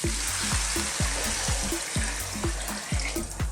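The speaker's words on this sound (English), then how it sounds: "I'm using cold water, and it goes." Cold water pours steadily into a pot of red lentils and vegetables, a continuous close splashing rush with a rhythmic thumping beat underneath and no voices.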